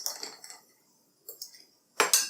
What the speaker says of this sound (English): Give it a stir for good measure.